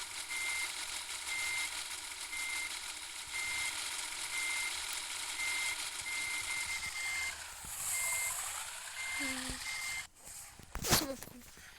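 Steady electronic reversing beeps from a truck in a truck-driving video game, repeating evenly over a constant engine idle hum, with a clunk and engine rev near the end.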